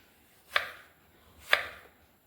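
Two crisp knife chops through an apple on a cutting board, evenly spaced about a second apart, close and clear with no talking.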